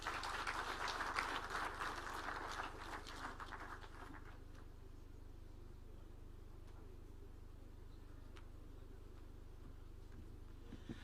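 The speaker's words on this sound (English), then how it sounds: "Another round of applause for CS." A crowd applauds at an outdoor investment event attended by Kenya's president and troops, a faint, distant burst of clapping in the first few seconds that quickly dies away, leaving quiet room hum.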